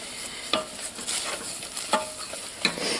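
Flour being stirred into a hot roux in a pan makes a quick series of scraping strokes and metallic taps over a faint sizzle, close and fairly loud.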